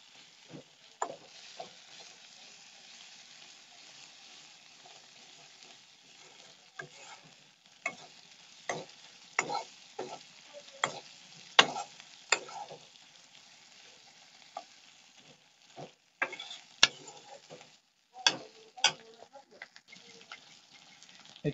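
Onion, garlic and ginger frying in a pan for a duck curry give a low sizzle, broken by sharp scrapes and clicks of stirring that grow busier later, with a voice now and then.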